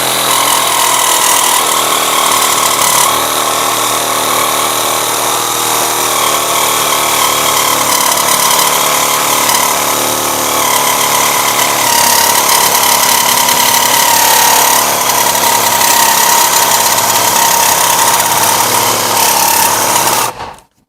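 A WOYOFADA cordless reciprocating saw cutting steadily for about twenty seconds, a loud, continuous rasping buzz with a strong high whine, up close and running alone until it stops abruptly at the end.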